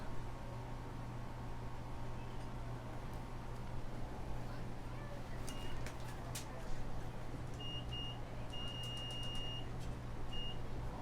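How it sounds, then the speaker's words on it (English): A track meet scoreboard timer gives several short, faint electronic beeps in clusters as it is reset, over a steady hum and outdoor background noise. "That beeping you hear is just me resetting our scoreboard timer."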